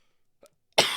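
A single sharp cough rings out close and loud, with a brief faint sound just before it and no talking.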